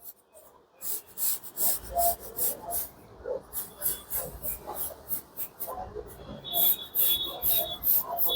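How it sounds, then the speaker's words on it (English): Pencil drawing a freehand border on A3 cartridge paper, a series of soft scratchy strokes in irregular rhythm, close and fairly faint, with light background noise. "draw a freehand border like this"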